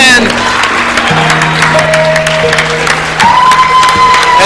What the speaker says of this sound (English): everybody around here is on their feet applauding these superstars